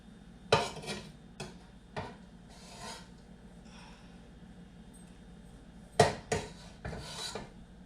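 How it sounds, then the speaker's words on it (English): A knife cuts a block of cheese into smaller pieces on a kitchen surface. A few quiet, scraping strokes come in separate bursts with pauses between them, close by and with no talking. "I'm gonna cut this cheese up a little bit more to help with melting"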